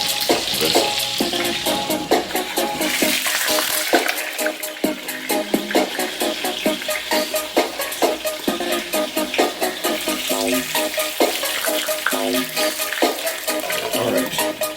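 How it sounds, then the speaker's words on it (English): Jamaican-style baby back ribs brown in a hot pot with loud, continuous sizzling and frying, broken by frequent scraping and stirring of a utensil against the pot, all close and without talk. "I'll do some browning them to get a color"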